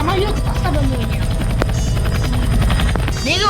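A steady, buzzing aircraft engine drones loudly and continuously in a Roblox game, with a voice speaking over it.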